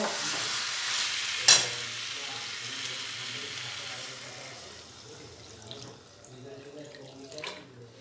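Chicken curry is stirred in a pan just after water is poured in, with a loud burst of hissing water and sizzle at first, then a quieter bubbling simmer broken by a few scrapes of a spoon.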